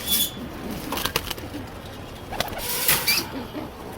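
Pigeons in a rooftop loft in Mirpur, Dhaka, soft low cooing calls from nearby birds with a few brief wing flutters, faint and intermittent.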